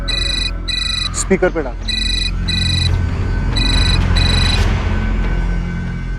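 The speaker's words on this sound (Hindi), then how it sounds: "यार सेम नंबर से फोन आ रहा है।" A phone ringtone plays in repeated electronic bursts with short gaps, in an indoor thriller scene. People talk over the ringing between the bursts.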